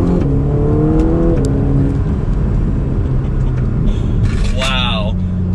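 A 2021 Ferrari Roma engine revving in second gear in manual mode with paddle shifters, a loud close drone that climbs, drops, then rises again, with someone talking over it.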